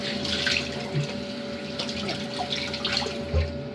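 Cold water runs from a kitchen tap in a steady, soft hiss and splash, with a faint constant hum underneath and a few small clunks of dishes nearby.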